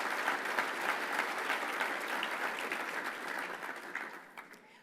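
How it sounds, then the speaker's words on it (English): An audience applauds at a U.S. Soccer induction ceremony, a fairly faint, steady patter of many hands that tapers off and fades out toward the end. "huge round of applause for them."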